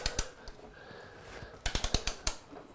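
A torque wrench ratchets while tightening a Yamaha R6 motorcycle wheel to 80 foot-pounds. Close, sharp metallic clicks sound in a quick cluster, then a pause and one more click, with no voices.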